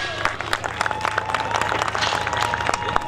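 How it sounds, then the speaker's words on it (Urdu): An audience claps at a housing society event in Islamabad, a dense, steady patter of hands continuing with murmuring under it. "خوب تالیاں بجائیے گا"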